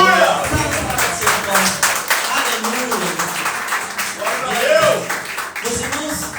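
A church congregation claps in a dense, continuous burst of applause, loud and close, with voices calling out over the clapping throughout.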